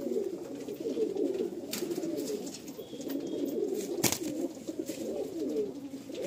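Homebred pigeons in a loft coo in low, repeated, overlapping calls. The cooing is steady and close, with a few faint clicks and no speech.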